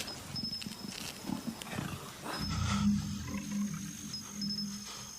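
A leopard growls low and rough, a deep rumbling snarl that swells in the middle and trails off, close and fairly loud with no voices.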